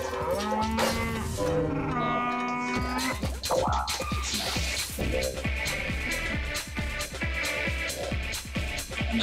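A cartoonish cow moos in the Mario Strikers Charged football video game, sounding loud and drawn out near the start over busy game music and crowd noise that continue throughout.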